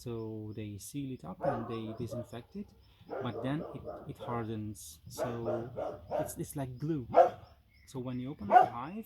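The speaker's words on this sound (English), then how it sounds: "sorry for the dog barking again." A dog barks and yips intermittently in the background while a person talks steadily about beekeeping and hives.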